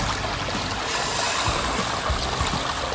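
Water rushes steadily through a gold sluice outdoors in Australia, a dense continuous wash of flowing water with no voices.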